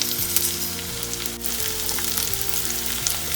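Chopped garlic, onion and scallion sauté in a hot pan for loaded nachos, a loud, dense, steady sizzle over soft background music.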